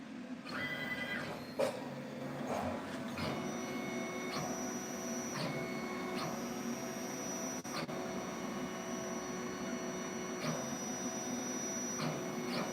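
A CNC plasma cutting table running a dry run, its motors whining in steady tones that shift and hold as the gantry moves, over a constant mechanical hum, with no talking.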